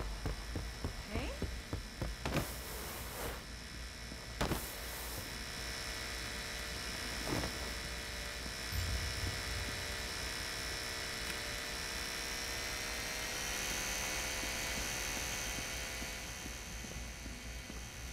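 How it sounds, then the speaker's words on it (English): A drill running during a heist in the video game Crime Boss: Rockay City gives a steady, high mechanical whine with a constant hum underneath. It goes on for the whole stretch, with a few sharp clicks near the start and quiet voices in the background. "Increase the drill speed."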